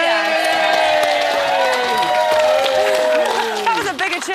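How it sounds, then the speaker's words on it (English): Studio audience on a celebrity reality show cheering and applauding loudly, a dense sustained roar of whoops and clapping, with a presenter's voice running over it. "That was a bigger cheer, I think."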